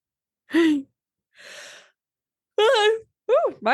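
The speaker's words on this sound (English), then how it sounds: "my turn to yawn" A person yawns aloud in a podcast setting, a drawn-out breathy exhale followed by voiced, wavering yawning sounds, close to the microphone.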